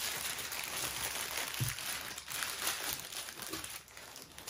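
Paper crinkles and rustles as it is wrapped around a glass jar for homemade autumn decor, a soft continuous crackle close by with a few sharper handling sounds and no talk.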